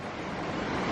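Fast-flowing river water rushes during a ford, a dense, steady wash of noise heard alone for under a second.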